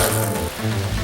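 A GM four-wheel anti-lock brake system from 1995 activating under hard braking, giving a short, loud, rapid low buzzing pulsation that stutters twice within about a second, heard alone.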